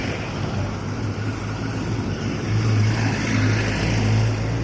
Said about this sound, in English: These are the rattling noise of the trucks and other heavy vehicles.